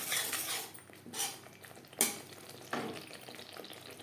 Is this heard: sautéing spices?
yes